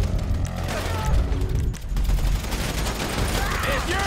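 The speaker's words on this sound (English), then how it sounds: "So I guess we're shooting our way out of here!" Sustained gunfire from a shootout in GTA 5, dense overlapping bursts of shots with machine-gun rattle, loud and continuous throughout, with shouted voices briefly mixed in.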